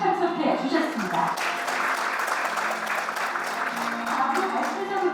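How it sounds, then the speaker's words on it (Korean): Audience applause welcoming the panel members at a Korean energy forum: steady, dense clapping from a crowd that holds at an even level throughout, with a voice speaking over it at the start. "여러분 뜨거운 박수로 맞이해 주시기 바랍니다"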